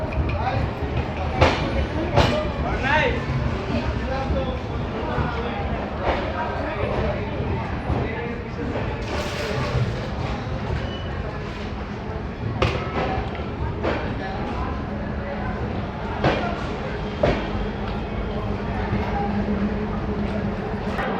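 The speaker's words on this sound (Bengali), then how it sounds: "নির্ধারিত সময় থেকে পাঁচ মিনিট বিফোর আমাদের ট্রেন এসে পৌঁছালো মালদা টাউন" The 13190 Balurghat–Sealdah express rolls along with a steady rumbling clatter and periodic knocks of wheels over rail joints, heard from inside a carriage while someone talks over it.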